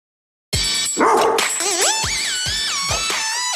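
A sampled dog bark played back over studio speakers, a short run of sharp, loud yaps and yips in an uneven rhythm, pitched and warped in places, with no talk.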